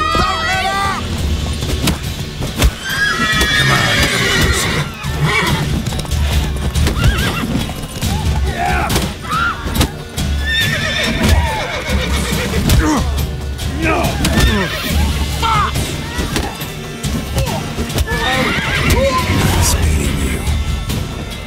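Horses whinny and neigh repeatedly amid steady clip-clopping hooves and clashing sounds, with voices talking over the busy, loud scene in The Witcher 3 video game.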